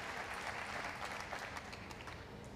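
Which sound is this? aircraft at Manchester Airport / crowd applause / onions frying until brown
crowd applause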